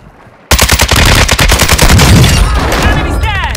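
Rapid automatic gunfire on Ashika Island in a video game bursts in suddenly after a quiet moment, a loud, close stream of dense shots rattling for several seconds before tapering into scattered pops and whizzing ricochets.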